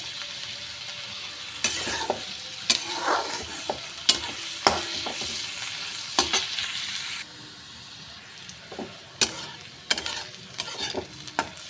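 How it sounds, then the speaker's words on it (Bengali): Chopped onions fry in a pan for a wedding-style tarka, giving a steady close sizzle. Sharp clinks and scrapes of a spoon stirring against the pan recur throughout, with no voices. "পেঁয়াজটাও আমি বেশ লালচে করেই ভাজবো"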